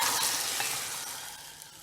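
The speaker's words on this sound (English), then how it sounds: "I'm now adding a nice seasoning of cumin, mustard, curry leaves, baggy chilies," Cumin, mustard seeds, curry leaves and chilies hit hot ghee with hing, giving a bright, continuous sizzle and crackle that fades slightly over under two seconds.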